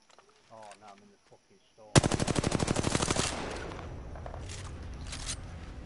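Rapid automatic gunfire bursts out loud and close in Apex Legends, a fast rhythmic volley that gives way to scattered shots and rumbling, preceded by brief speech-like voice sounds.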